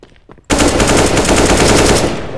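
Rapid automatic gunfire in Counter-Strike: Global Offensive, a loud sustained burst of machine-gun-like shots erupting after a brief quiet moment and continuing without pause.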